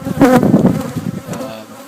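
Swarm of agitated honeybees buzzing loudly and close, a dense continuous drone that swells and then eases slightly, heard alone during pollination work in Florida.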